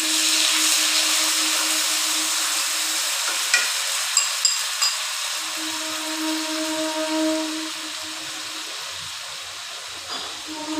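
A paste of ground onion, garlic and ginger fries in hot oil with a steady, bright sizzle, broken by a few sharp clinks of a stirring utensil and softening gradually toward the end.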